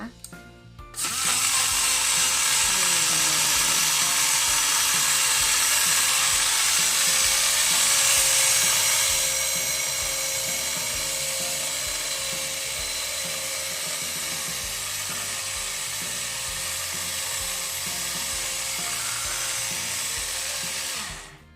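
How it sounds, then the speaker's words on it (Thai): A BlendJet 2 portable blender whirs continuously for about twenty seconds while blending tea, a steady high-pitched motor whine that starts abruptly, eases slightly in pitch midway and cuts off at the end. "พอแน่นแล้วก็ทำการปั่นเลยนะคะ"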